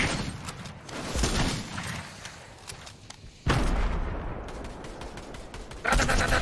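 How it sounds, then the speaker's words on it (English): Dense video game gunfire rattles in rapid bursts of automatic shots, with sharp louder volleys cutting in near the middle and the end, close and loud throughout. "We're just getting shot at"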